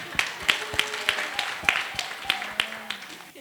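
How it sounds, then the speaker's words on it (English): An audience gives a gentleman a round of hand claps at a summer school talk, a series of sharp, separate claps in an irregular rhythm, near and fairly loud, with faint voices underneath. "Give this gentleman a hand clap"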